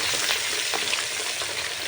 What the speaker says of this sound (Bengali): পুরো মাছ দেবো না একবারে অর্ধেক অর্ধেক করে ভেজে নেবো